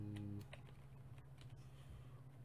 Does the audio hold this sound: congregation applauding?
no